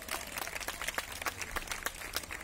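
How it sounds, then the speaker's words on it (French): Audience clapping at a fashion week show, a quick patter of many hands that stays fairly faint and even for a couple of seconds, with no voices over it. "on applaudit très très fort"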